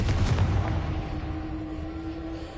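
A Confringo fire spell explodes in the Hogwarts Legacy video game as a heavy low boom right at the start, then fades into a rumbling tail with a faint sustained tone.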